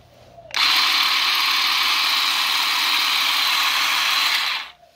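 Ryobi ONE+ cordless grass shears, 18V with a 1.5Ah battery, switch on abruptly and run with a steady bright buzzing whir for about four seconds before cutting off, close and fairly loud with no talking.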